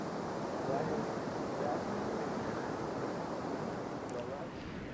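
Gusty wind buffets the microphone on a golf course during a PGA EuroPro Tour event at Rowallan Castle, a steady, rumbling roar with a commentator's voice faintly beneath.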